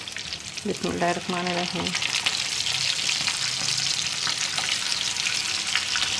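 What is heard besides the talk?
chapli kebab minced meat frying in hot oil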